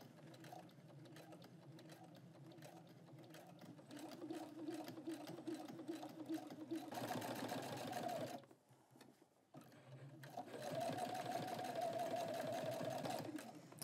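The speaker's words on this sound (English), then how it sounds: "And you just stitch carefully along the edge, and we'll stitch all the way round." A sewing machine stitches the edge of a homemade roller towel, humming and whirring steadily in a long run that briefly stops and then starts again, recorded quietly and close by.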